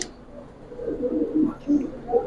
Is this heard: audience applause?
no